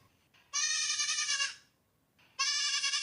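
A newborn baby goat in a Hindi cartoon bleats twice, each a loud, close, wavering cry lasting about a second, separated by a short pause.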